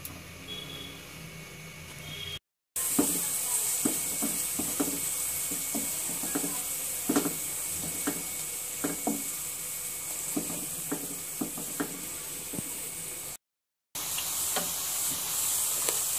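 Sliced carrots fry in hot coconut oil, giving a continuous hiss and sizzle dotted with small crackles and pops that run steadily for several seconds, with two brief silent gaps.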